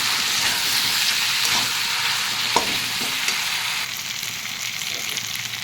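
Spices sizzle and fry steadily in a pan for aloor dum, with cumin and hing in the mix. A continuous hiss carries a few faint scraping stirs throughout, and no one speaks.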